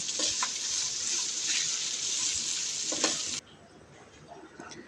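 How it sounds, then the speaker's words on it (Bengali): Spices frying in a pan with garlic and ginger paste for beef biryani, a close, bright continuous sizzle with occasional stirring scrapes that drops suddenly to a quieter hiss near the end. "মশলাগুলোকে এবার ভেজে নেব যেন কাঁচা গন্ধটা না থাকে"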